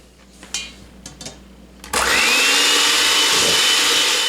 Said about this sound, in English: we're going to beat them for a couple of minutes till they become frothy